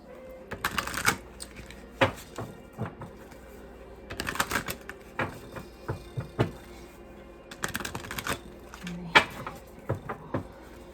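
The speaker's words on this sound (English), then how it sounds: "let's pull some cards and see if we can get you guys some additional messages" Tarot cards being shuffled in repeated bursts of riffling and flapping, close and fairly soft, with short pauses between rounds and no talking.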